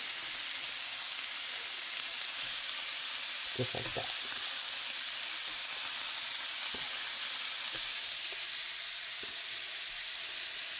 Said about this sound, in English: So we're going to get this frying up.